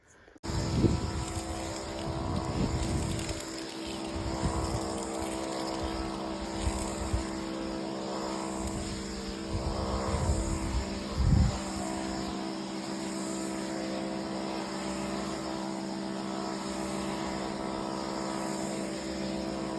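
A motorised crop sprayer pump used for spraying onion and fenugreek fields runs with a steady, droning engine hum, loud and constant across the whole stretch, with a few louder bumps and knocks early on.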